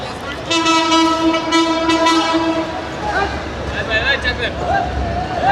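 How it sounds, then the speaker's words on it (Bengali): A train sounds a long, loud harmonic horn blast as it approaches along tracks running through a busy fish market, followed by rumbling rail noise with voices of the crowd talking over it. "ওই যে দেখেন ট্রেন আসতেছে"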